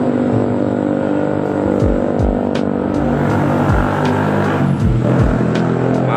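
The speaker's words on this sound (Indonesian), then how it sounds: "ini agak bising di pinggir jalan, kendaraan lewat" Roadside traffic next to a car wash: a steady engine hum broken by several vehicles rushing past one after another, each pass dropping in pitch as it goes by, fairly loud and close.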